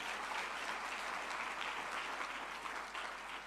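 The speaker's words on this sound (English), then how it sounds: "can you give her a round of applause once again" Sustained applause from an audience at a Future of Work 4IR dialogue session, an even wash of clapping with no voices on top, steady for the whole span.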